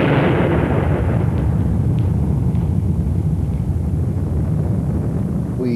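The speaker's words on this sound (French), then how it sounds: "On a fait sauter une bombe de 24 kilotonnes." Archival film soundtrack of a 24-kiloton nuclear bomb test explosion at sea among naval vessels, a loud sustained roaring rumble that stays heavy and continuous throughout with no talk.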